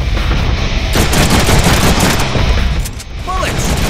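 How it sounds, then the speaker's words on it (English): Heavy gunfire in the Deadpool video game, loud sustained automatic bursts hammering close up, then a brief lull before more shots, with voices partly under the noise. "I'm actually shooting the absolute crap out of these guys"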